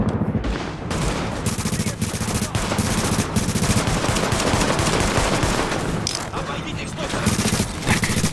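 Rapid bursts of automatic gunfire rattle almost continuously in Tom Clancy's The Division, with a few sharper shots and brief lulls, mixed with game sounds.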